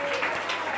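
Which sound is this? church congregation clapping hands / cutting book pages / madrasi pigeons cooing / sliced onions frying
church congregation clapping hands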